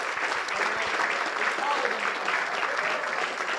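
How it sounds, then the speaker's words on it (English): Steady applause from the audience at a regular city council meeting honoring a group of boys, a continuous even patter of many hands with some voices mixed in. "Let's give these boys a round of applause."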